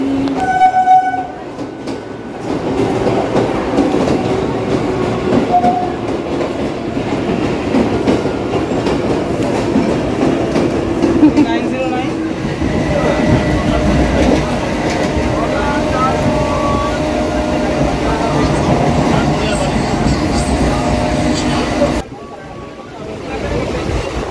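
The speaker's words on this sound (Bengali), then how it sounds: "স্টেশন চলে এসছি" A train rolls into Naihati station with a steady rumble and rattling wheels, a loud horn-like tone rising midway, then the noise drops away near the end.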